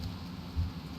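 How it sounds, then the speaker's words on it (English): Steady soft rain patters in World of Warcraft, a low continuous wash with a slight swell partway through, faint and even throughout the short stretch. "Oh, and the sound of the rain as well."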